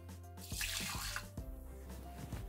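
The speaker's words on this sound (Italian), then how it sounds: "Iniziamo la ricetta mettendo all'interno del boccale l'acqua" Water poured into the jug of a Thermomix (Bimby) kitchen machine while making pizza margherita dough, a close splashing, trickling pour lasting a couple of seconds with small drips and clinks.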